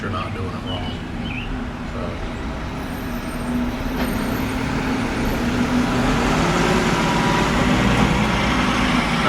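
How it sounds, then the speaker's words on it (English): A trash truck rumbles steadily in the background, growing slightly louder over time, while a person talks over it close by. "not sure if you can hear the noise in the background, trash truck."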